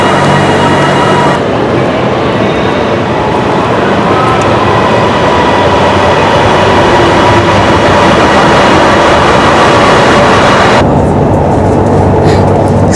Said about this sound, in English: Standing passenger train in Thailand.